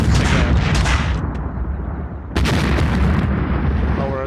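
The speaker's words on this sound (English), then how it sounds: "Our artillery seems to be working just fine to put them off" Artillery fire in the tank warfare game Graviteam Tactics, a continuous dense rumble of booms and bursts that briefly thins out before a loud new wave of blasts crashes back in.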